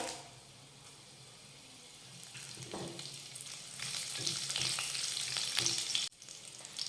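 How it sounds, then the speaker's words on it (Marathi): Curry leaves dropped onto garlic browning in hot oil, a rising crackling sizzle that grows louder and busier after a quiet start, heard up close with no voices. "लसूण परतून घेतला की आता यामध्ये घालूयात कढीपत्ता"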